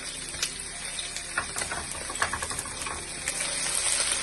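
Curry leaves, green chilli, garlic and ginger crackle and sizzle in hot oil in a home kitchen pan, a steady close fizz broken by small sharp pops.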